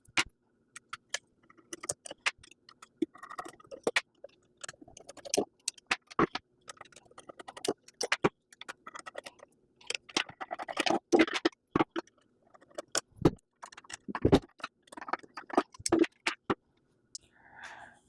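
Metallic clicks, jangles and scraping taps from an Allen key loosening bolts on a cardboard rings press head for a six-pack ringing machine, coming in irregular close bursts over a quiet background.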